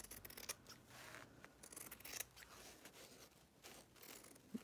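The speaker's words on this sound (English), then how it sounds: "Using my good fabric scissors that make a really nice clean cut." Sharp fabric scissors snip through vintage lace curtain fabric in a series of quiet, close crisp cuts, alone without talk.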